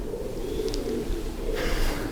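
Pigeons cooing high up inside a large wooden grain bin, a faint continuous murmur of coos heard from a distance under steady ambient noise.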